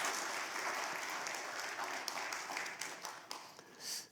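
A church congregation applauds to welcome a missionary, producing warm, continuous clapping from many people in a hall. The sound is fairly quiet and even, and it thins slightly toward the end.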